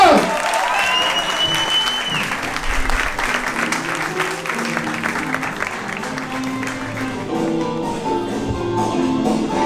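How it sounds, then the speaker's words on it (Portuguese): Audience applause at a stand-up comedy show, a dense sustained wash of clapping from a crowd filling the room for several seconds with faint voices mixed in. "muitos aplausos!"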